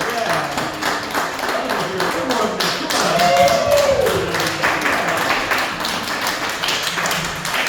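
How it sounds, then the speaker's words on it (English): An audience claps for itself at a kirtan in an intimate setting at Lotus Sound, Collingwood, Ontario. Steady, dense applause fills the whole stretch, with a voice speaking over it. "let's give yourselves a little round of applause."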